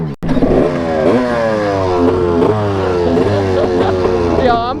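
A 2-stroke dirt bike engine revs hard up close, its pitch climbing and dropping in repeated sweeps, loud and buzzy, with a brief clatter at the start.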